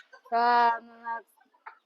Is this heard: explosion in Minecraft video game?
no